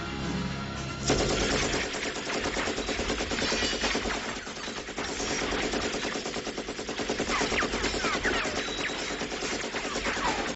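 Rapid bowgun fire in Monster Hunter Sunbreak, a dense, unbroken stream of loud shots and impacts hammering on for about ten seconds with no voices.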